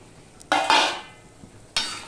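Green peas land in a pan of cooking spice masala, setting off two sharp, close bursts of sizzling that each fade away, with light scraping in between.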